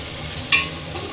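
Chicken polao cooking in a large pot gives one sharp metallic clang from stirring, set against a steady sizzling hiss, close and without talk.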